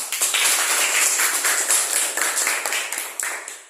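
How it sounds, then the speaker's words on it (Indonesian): Classroom applause for a student group after their presentation during a teaching practice lesson, a small group of students clapping steadily and close for a few seconds, fading slightly toward the end. "Oke, tepuk tangan untuk kelompoknya Fani."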